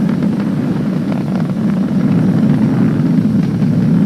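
SpaceX Falcon 9 rocket engines roar during ascent at supersonic speed as a steady, dense, low rumble with no break, heard distantly over a broad noisy wash.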